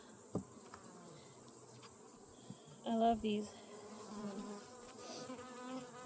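Honeybees buzzing faintly around a greenhouse hive, a soft insect drone with a brief louder burst near the middle, while a person speaks briefly close by.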